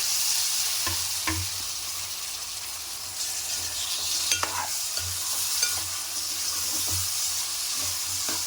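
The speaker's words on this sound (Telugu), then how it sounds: "టమాటా ముక్కలు వేసేసుకోవాలి చిన్న చిన్న కట్ చేసుకొని వేసుకోవాలి" Small chopped tomato pieces cooking in a pan for an egg and cauliflower curry, a close, steady sizzle broken by repeated scraping stirs and soft clatter, no voices.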